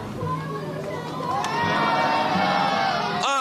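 A large crowd of supporters cheers and shouts at a political rally venue in Kaohsiung in the early morning, a continuous loud roar of voices that swells partway through.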